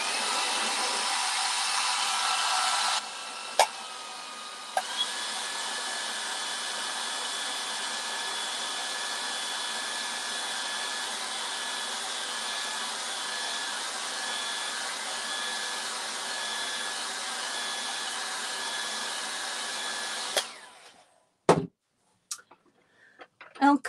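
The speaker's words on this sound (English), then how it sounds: "Use my blow dryer for a second." A hair dryer blows with a steady loud whoosh that shifts pitch slightly after a few seconds, running continuously before switching off, followed by a few clicks.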